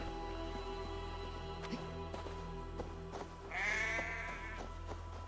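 Sheep bleating in Assassin's Creed Valhalla, a single drawn-out bleat near the end over a steady game soundtrack drone with light footstep-like clops.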